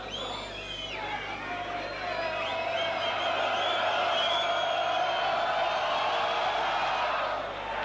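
A Bradford Northern crowd roars after a rugby league penalty goal against Leeds, a sustained, swelling mass of cheering and whooping that holds steady for several seconds at a packed stadium.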